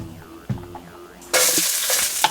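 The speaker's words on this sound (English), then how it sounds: "once your oil is hot, the first thing you want to do is add your onions" Onions and carrots drop into hot oil in a pan for fried quinoa. After a moment of quiet clatter, a sudden loud, broad sizzle breaks out and carries on strongly and up close.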